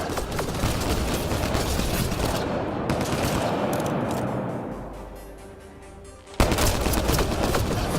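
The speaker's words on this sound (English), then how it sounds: "Enemy fire!" Enemy gunfire in the sci-fi game Mass Effect Andromeda rattles in dense, continuous automatic bursts. It thins and fades toward the middle, then snaps back loud and close after a sudden hit.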